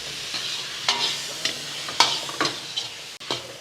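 Tomato frying and being stirred in a pan for sambar, a soft steady sizzle with several scraping stirs of a spoon, close and fairly quiet.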